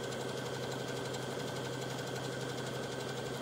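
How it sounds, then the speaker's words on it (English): A sewing machine stitching along the edge of a woven scarf hums in a continuous, even mechanical drone with a faint rhythmic vibration, steady and fairly quiet throughout. "sew this all the way around, but I'm just situating this right by the edge of where I just sewed"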